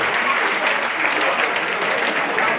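Sustained applause fills a reunion hall at a military academy alumni gathering as guests are welcomed, steady dense clapping from a large crowd with no pauses.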